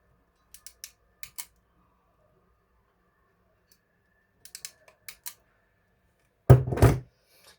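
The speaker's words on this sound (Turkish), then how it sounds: "Şimdi arkadaşlar fazlalıklarını keseceğim." Wire cutters snipping off excess wire while wiring a grounded extension socket: a few small crisp clicks in two groups, then one louder, heavier cut near the end, in an otherwise quiet room.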